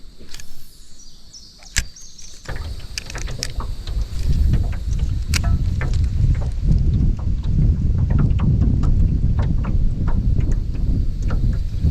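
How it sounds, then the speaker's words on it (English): Strong wind buffets a microphone on a fishing boat, a rough continuous roar with scattered sharp knocks and clicks, no voices. "That wind is something else today"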